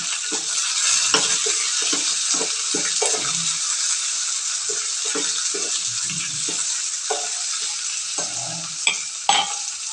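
Garlic and cumin frying with chana dal in a pan for sambar, a steady bright sizzle broken by repeated spoon-scraping strokes.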